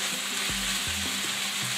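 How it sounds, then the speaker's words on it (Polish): Quartered button mushrooms sizzle loudly and steadily in a hot pan for a chicken-in-wine stew, with a few stirring scrapes and clunks under the constant frying hiss. "Wrzucamy wcześniej pokrojone 4 części pieczarki. I tu już musimy je smażyć"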